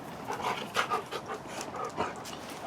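Close, quick panting from a dog, a rhythmic run of breathy huffs that carries on steadily with no talking.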